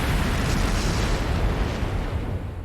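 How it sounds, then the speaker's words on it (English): A flash grenade goes off in the Trails of Cold Steel III video game as one loud, dense roaring blast that fills the whole short moment and fades only slightly at the end. "Flash grenade! Everyone down!"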